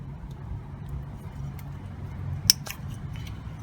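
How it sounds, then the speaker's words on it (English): On a VW T4 van, the rear brake wiring connector snaps out of its plastic clip, giving one sharp near click followed by a couple of small clicks over low ambient hum. "the bottom half of the connector that goes to the brakes snaps out of this little clip here and they pull apart"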